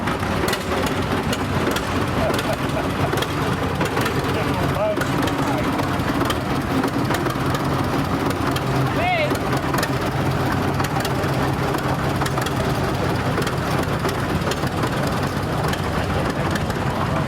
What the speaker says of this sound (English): Coming up is a 1952 John Deere Model A.